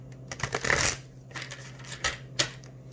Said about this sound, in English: So I'm gonna shuffle 3 times and pick 3 cards for some oracle messages.